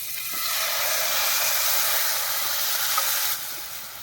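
Pitha batter poured onto a hot, oil-brushed pan sets off a loud, broad hissing sizzle that holds steady for about three seconds, then drops back to a quieter hiss.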